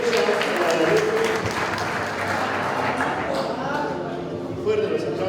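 Audience applause for a graduating student, Leonel, at a motorcycle and vehicle mechanics graduation ceremony, loud continuous clapping that fills the whole span with some voices mixed in.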